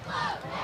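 Roar of a large crowd in the stands at a high school football game between Culpeper County and Eastern View, a brief, steady wash of cheering voices.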